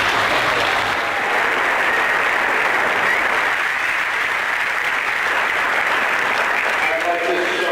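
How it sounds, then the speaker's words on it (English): High school graduation crowd applauding after a performance, a loud, sustained wash of clapping that fills the room steadily for several seconds without a break. "Let's have another round of applause for it."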